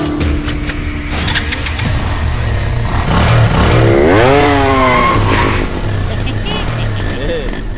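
Motorcycle engine revving loudly and steadily through the whole stretch, its pitch sweeping up and down, with tire noise and a voice talking over it in a Hindi-dubbed action film scene.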